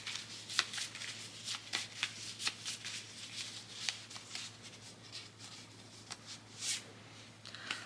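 Prompt cards are shuffled and picked by hand, making a quick series of crisp riffling flicks and soft paper slides at close range, irregular bursts spread across several seconds, with no talking.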